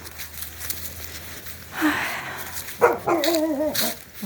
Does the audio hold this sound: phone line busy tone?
no